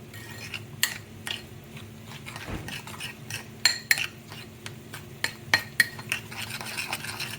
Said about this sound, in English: I just put that into the coconut milk. And just stir that up.